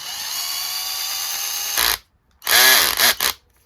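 A SCANS 16V 2.0Ah lithium-ion cordless compact impact driver and drill runs with a steady high whine, then cuts out and fires several more short revving bursts, close and loud with no talking.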